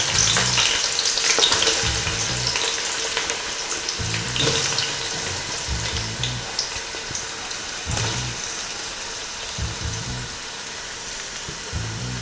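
Onions frying in a pan of hot oil with cloves for beef dum biryani, a steady loud sizzle throughout with periodic low scraping and stirring sounds, no talking.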